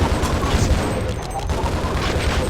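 Dense, continuous rocket and gunfire from a Half-Life multiplayer match: overlapping booms and shots run loud and steady for the whole stretch with no clear gaps.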